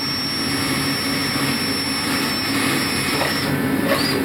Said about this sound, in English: drill some holes, because it's pretty hard to drive a nail in this stuff